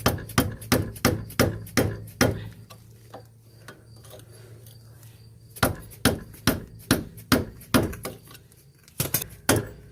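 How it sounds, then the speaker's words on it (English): Hammer tapping stuck brake pads out of a caliper bracket on a 2007 Chevrolet Cobalt, sharp metallic knocks in quick rhythmic bursts, a pause, then another run of close, crisp strikes. "So I'm just going to have to tap them out."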